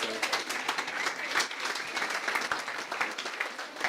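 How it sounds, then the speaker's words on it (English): Audience at a debt master class seminar claps by hand, a brisk crowded patter with sharper individual claps scattered through it, fairly loud and steady with no speech. "I think they need a better hand clap."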